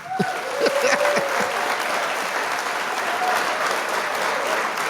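A crowd claps steadily throughout, dense and fairly loud, with a few cheers and whistles at the start.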